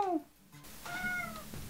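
A cat gives two short meows in quick succession, the second longer and rising, close and fairly soft.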